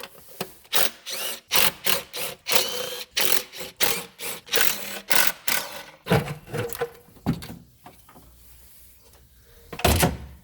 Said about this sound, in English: Grab yourself an 8 mil, preferably a 1/4 inch 8 mil